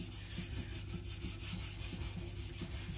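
A knife edge being thinned on a sharpening stone makes a steady, continuous gritty rubbing with faint rhythmic strokes, close and alone without any talk.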